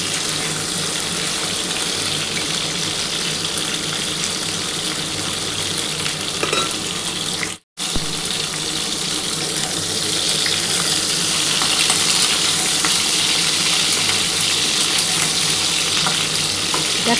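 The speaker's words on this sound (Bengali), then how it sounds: "আমার কিন্তু আলু আর পটলটা লাল করে ভাজা হয়ে এসছে।" Potatoes and pointed gourd fry in a pan with spices, giving a loud, steady sizzle with faint stirring throughout, broken by one brief silent gap midway.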